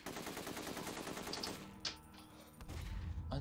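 Rapid automatic gunfire from the video game The Getaway rattles steadily and moderately close, a fast even stream of shots with a few sharper cracks, then a heavier thump near the end.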